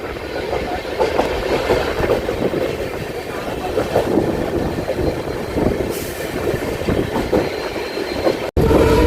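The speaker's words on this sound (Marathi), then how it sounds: "काय कर्व्हर आहे आपली ट्रेन" On board the diesel-hauled CSMT–Dhule Express passing the Sion tracks in Mumbai, a loud, continuous rolling rumble with wheel clatter and wind buffeting carries on, briefly cutting out near the end.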